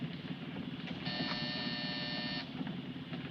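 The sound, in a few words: buzzer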